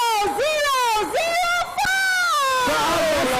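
Voices in a crowd at a university intramural dancesport competition scream and whoop loudly in rising and falling pitches. Several sustained shrieks overlap across the whole stretch.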